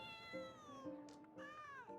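A cat character meows in Genshin Impact, a drawn-out, wavering, plaintive cry repeated in three close, pained-sounding calls, fairly loud and alone.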